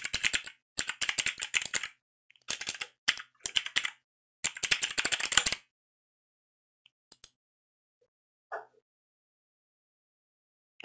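Quick bursts of typing on a computer keyboard as a password is entered, close and crisp with short pauses between runs of keystrokes, then near silence with a couple of faint clicks.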